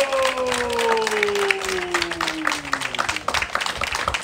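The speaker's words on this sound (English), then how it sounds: "Big round of applause." A crowd bursts into applause as a house sells at a live auction in Nunawading, dense clapping running steadily throughout, with a falling tonal sweep, like an air horn or siren effect, sliding down beneath it early on.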